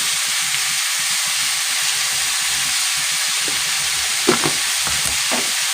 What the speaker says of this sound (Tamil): நல்லா சேர்த்துட்டு நல்லா கலந்துட்டுக்கோங்க